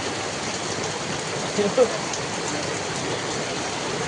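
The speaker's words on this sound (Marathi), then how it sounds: "खूप पाऊस आहे आता माग जोरात जोरात पाऊस आहे सकाळपासून" Heavy rain falls steadily as a dense, constant hiss, with a couple of faint brief knocks in the middle.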